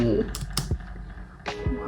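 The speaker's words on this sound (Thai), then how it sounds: "ลองพิมพ์คำว่า I love you ก็แล้วกันนะคะ" Keys clatter on a computer keyboard while someone talks over them, giving a few quick, moderately loud taps in short bursts.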